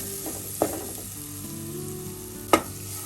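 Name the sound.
plantain frying in coconut-roasted ghee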